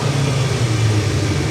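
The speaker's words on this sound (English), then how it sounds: "so revs just hang a little bit if you listen" A Hayabusa-engined Nissan Micra engine with a tight throttle cable idles with revs hanging, giving a steady, close droning hum with no clear drop in pitch over the short stretch.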